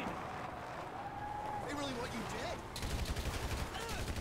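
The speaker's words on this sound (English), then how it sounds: "This is gonna be a nice, simple gunfight." Gunfight in the PC version of the video game GTA V, with rapid bursts of gunfire building in the second half over a steady bed of game sound and voices.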